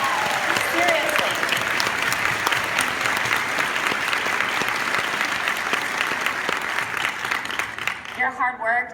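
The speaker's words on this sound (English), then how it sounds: "I want you guys to clap for each other" Conference breakout audience claps for one another at a 2016 Jamberry consultant event, a dense steady burst of applause filling the room before tapering into scattered claps and a voice at the end.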